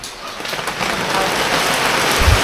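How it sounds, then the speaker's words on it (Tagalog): Steady rain pours down in a continuous, loud wash with no break, with a low thump near the end. "Ayan na naman ang ulan."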